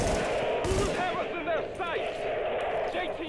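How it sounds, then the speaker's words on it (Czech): Gunfire rattles in the video game The Division as a few bursts of shots under ongoing talk and game ambience, fairly loud and close. "slyším střelbu"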